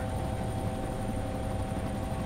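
Helicopter in the DayZ survival game, a steady low rotor and engine drone holding at even loudness throughout, with no talk over it.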